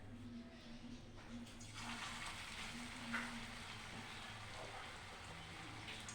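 Raw banana fritters frying in hot refined oil give off a steady broadband sizzle that holds evenly throughout, close by, with a faint low hum beneath and no talking.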